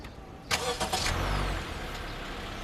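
A Honda BR-V starts by remote key: a sharp crank and catch, then the engine settles into a steady idle heard from nearby outside the car.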